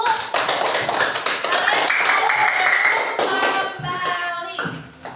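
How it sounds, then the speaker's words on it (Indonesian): A class of students claps for a group in a classroom, a burst of scattered hand claps under overlapping voices and chatter, tapering off toward the end. "Tepuk tangan untuk kelompok 1."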